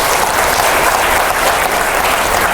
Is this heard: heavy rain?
no